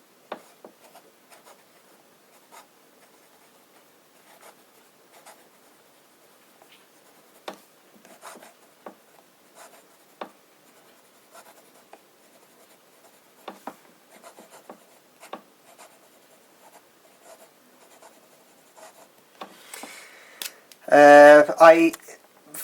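Fine-nib fountain pen scratching across paper with Diamine Twilight ink in short, quiet strokes, followed by a brief burst of speech at the end.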